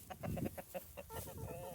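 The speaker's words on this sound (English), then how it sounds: "He's now the rooster in charge" A rooster in a chicken pen on a morning farm clucks in a quick, fairly faint series of short calls, several clucks in a row with a softer trailing chatter at the end.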